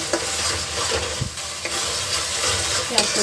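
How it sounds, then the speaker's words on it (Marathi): Coriander and ginger paste sizzles steadily in hot oil in a pan for a chicken curry, with a few clinks and scrapes of stirring breaking through the continuous frying hiss. "ही जी पेस्ट सेपरेट बनवलेली ती तर आता ह्याला पण थोडं फ्राय करून घेऊ आपण"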